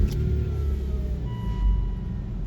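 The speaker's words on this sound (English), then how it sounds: "I'm just gonna start the car and see how it runs just with the new spark plug and coil" A Volvo XC90 engine, fitted with a new spark plug and coil, runs in a steady low drone that stays even and close, with no talk over it.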